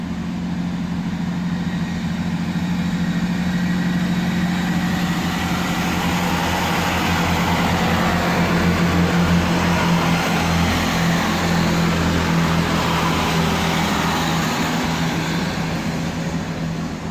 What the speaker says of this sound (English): Great Western Railway service from Penzance to London Paddington.